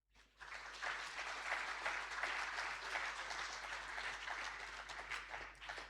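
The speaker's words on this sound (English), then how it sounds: "please give yourself a round of applause." A conference audience at a keynote address breaks into applause, a dense, even wash of many hands clapping that swells quickly and holds steady, heard from a distance.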